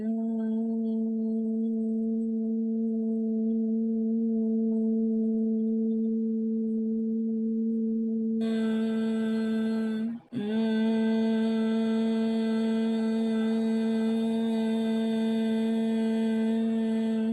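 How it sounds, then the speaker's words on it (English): A steady, sustained hum from a person on the out-breath, held as one continuous tone with a brief dip partway through before it resumes, close and clear with no talking. "And this humming should be in your breathing out phase."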